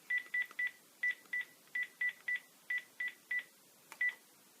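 A landline telephone keypad dials a mobile number, a quick series of about a dozen short, even tone beeps at an irregular pace, fairly faint over quiet room hiss.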